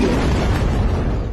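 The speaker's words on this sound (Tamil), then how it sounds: "நம்ம வெடிதான்டா சத்தமா இருக்கும்" A homemade firecracker going off, a loud sustained blast that fills the whole moment with a dense, rumbling boom and no voices.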